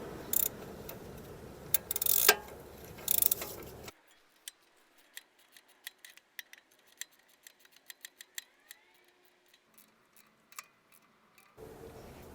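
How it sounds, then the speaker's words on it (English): An 18mm socket and wrench tightening a bolt on the front suspension of a 2005 BMW Z4, scattered quick ratcheting clicks and ticks. A louder metallic clatter is heard at first, then faint clicks follow in near silence. "use an 18mm socket and wrench to tighten it up."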